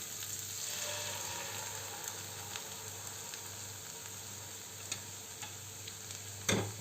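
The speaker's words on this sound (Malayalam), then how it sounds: "ഇനി നമ്മുടെ ഈ മസാലയൊക്കെ ഒരു ഭാഗത്തേക്ക് ഇങ്ങനെ മാറ്റിയതിന് ശേഷം ഈ മുട്ടയെ നമുക്കിതിലേക്ക് ഒഴിച്ചു കൊടുക്കാം." Beaten egg poured into a hot pan beside masala gives a steady, faint sizzle with a few light clicks and a sharper clatter near the end, and no one speaks.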